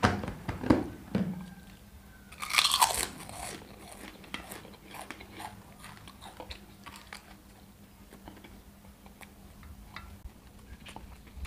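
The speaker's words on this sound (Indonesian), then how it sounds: "pengen gua kasih kerupuk ya, biar ada kriuk-kriuknya dikit" Crisp crunching bites of kerupuk crackers eaten alongside jengkol fried rice, a few sharp crunches early on, then softer chewing and clicks close to the mic.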